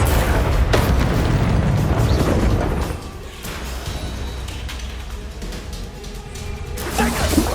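Spell explosions in Hogwarts Legacy on PS5, a loud booming blast followed by rumbling, whooshing bursts of magical combat that fade to a lower roar and swell again near the end.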